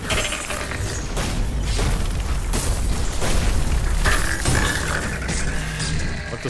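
An enemy blows up in the game The Surge: loud, dense rumbling blasts and shattering crashes roll on continuously with metallic clatter layered over the din.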